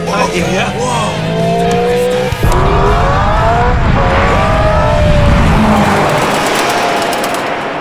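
A Hyundai Ioniq 5 N electric car roaring and accelerating hard with tires squealing, loud and close, while people shout and talk excitedly over it.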